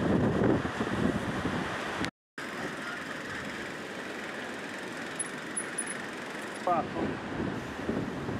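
Strong wind blows across a mountain ridge, buffeting the microphone as a steady broad roar with gusts throughout, briefly cut out once; a voice speaks softly underneath.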